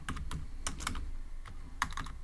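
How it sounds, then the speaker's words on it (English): Computer keyboard keys tapped while coding in Python: quick, close, uneven clusters of crisp clicks, alone with no voice. "I'll type print"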